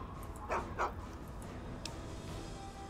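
Dogmeat, a dog in Fallout 3, lets out two short whimpering yelps close by over a low, steady ambient background, with a faint higher whine later.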